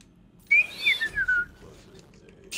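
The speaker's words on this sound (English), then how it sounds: "just deafen me with your whistling" Whistling of a few short gliding notes, loud and close, with a rising slide and then a falling run, heard alone over a quiet background for about a second.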